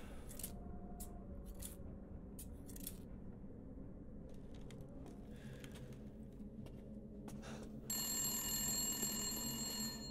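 An old-style telephone bell rings in Resident Evil Village, first as quiet intermittent bursts over a low eerie ambient drone and then as a louder, sustained ring near the end.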